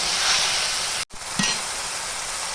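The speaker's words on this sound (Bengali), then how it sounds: "অল্প পরিমাণে জিরে গুঁড়ো আর অল্প পরিমাণে ধনে গুঁড়ো দিয়ে আমি ভালো করে নাড়িয়ে নিলাম" Cumin and coriander powder stirred into frying tomato paste for a potato, ridge gourd and fish curry: a steady close sizzle with a brief pause, then a soft scrape of the spoon before the hiss resumes.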